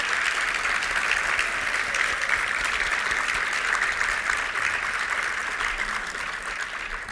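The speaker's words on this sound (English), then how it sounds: "Let's give them a round of applause." An audience applauds at the Governor's Reception for IBE 2024, a steady, dense round of clapping that holds loud and even for about seven seconds with no voices over it.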